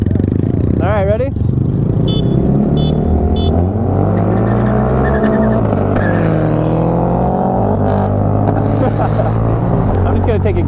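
Mazda Speed 6 car racing a Grom motorcycle on the road, loud engine drone with rising and falling revs as gears shift, heard close from inside amid talking.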